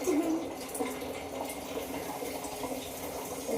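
Water runs steadily into a container indoors, a continuous moderate splashing stream that holds at a constant level throughout.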